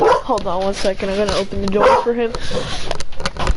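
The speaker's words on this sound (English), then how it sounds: "That's my dog." A dog barks and whines in short, repeated yelps close by, overlapping someone talking.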